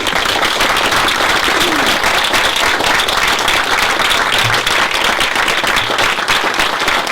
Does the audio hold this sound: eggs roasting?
no